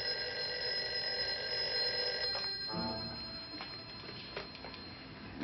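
An old telephone bell rings in repeated short bursts, faint and somewhat distant, over a steady background hum in a quiet indoor scene.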